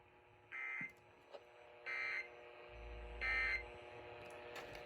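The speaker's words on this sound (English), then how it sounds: "Station is testing its emergency alert system equipment." Emergency Alert System test header tones broadcast on KDKA radio: three short, loud, evenly spaced electronic data bursts over a steady background hum, with no voice.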